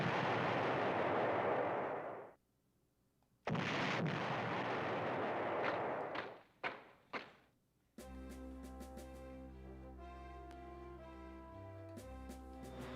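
Several heavy booming blasts of naval gunfire in the PlayStation 1 game Panzer General with rumbling decay, a pause, then more bursts and sharp cracks, before music takes over in the final seconds.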